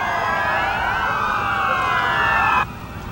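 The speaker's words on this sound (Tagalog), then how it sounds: "sabay-sabay na tumunog ang sirena ng daang-daang patrol cars at ambulansya" Sirens from hundreds of patrol cars and ambulances, sounding together during security for the 30th ASEAN leaders meeting, make a loud, dense wall of overlapping wailing tones that ends abruptly near the close.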